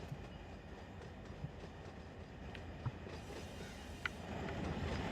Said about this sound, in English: another CN water rack train